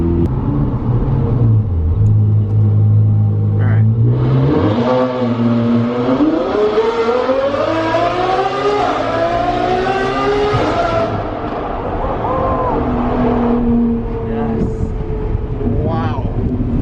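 A Ferrari F12 supercar's engine drones steadily while driving, rising in pitch as it accelerates and then holding, with a constant rumble and some wind noise; someone talks over it throughout.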